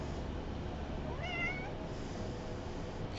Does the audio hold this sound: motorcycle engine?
no